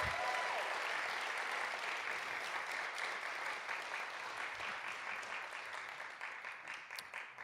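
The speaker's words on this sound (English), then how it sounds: "Let's give one more round of applause" An audience gives a sustained round of applause for Dr. Cottom at an Economy For All event, steady dense clapping that tapers slightly toward the end with no talking over it.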